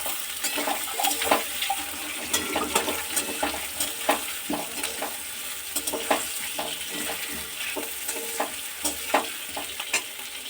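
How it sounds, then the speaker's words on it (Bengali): Potatoes and onions frying together in a pan, a close sizzle broken by repeated scraping and stirring bursts at an uneven rhythm, with no talking. "পেঁয়াজের সাথে আলুটাকে আরেকটুখানি ভেজে নেবো।"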